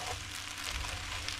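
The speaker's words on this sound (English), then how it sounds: "when I play back a lot, you'll hear like it's really sizzling" Noodles frying in sauce in a pan: a steady, dense sizzle with a soft crackle, faint and continuous with no voices.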